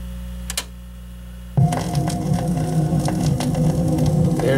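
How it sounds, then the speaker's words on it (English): A song plays through an Innovative Technology ITUT-204SVR USB turntable, starting abruptly after a few faint clicks and hum, then running full and steady with light crackle. "well, let's play some music"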